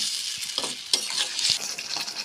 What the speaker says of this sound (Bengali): আদা, ধনে, মৌরি পেস্টটা দেওয়ার পর একটু ভালোভাবে কষিয়ে নিতে হবে